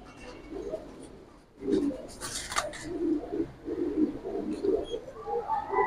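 Army land pigeons cooing at a pigeon seller's, several throaty coos in short bursts, close by, with a brief rustle or flutter partway through and a low background murmur.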